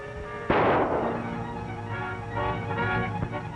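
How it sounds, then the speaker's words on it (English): A single loud gunshot rings out from inside a jail cell in a 1944 western film, a sharp crack followed by a long, fading reverberation with a faint background tone. "That shot came from the cell."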